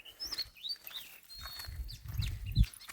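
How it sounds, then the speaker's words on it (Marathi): Birds chirp and call in open village fields, with several short, high tweets scattered across the moment, alongside some low rumbling and knocking close by. "आज काय मस्तच आवाज येतं पक्ष्यांचं"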